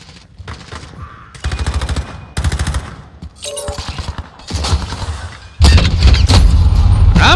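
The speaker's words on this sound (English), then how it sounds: "I'm shooting him!" Gunfire in Call of Duty Modern Warfare, hardcore multiplayer mode: short loud bursts of automatic fire separated by brief pauses, ending in a sustained heavy volley.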